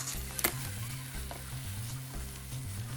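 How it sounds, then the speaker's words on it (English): Ground beef browning for lasagna in a frying pan with spaghetti sauce, Italian seasoning and oregano, a steady close sizzle and fry with a faint clink or stir near the start. "Now add the ground beef and brown it."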